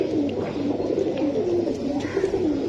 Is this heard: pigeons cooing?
yes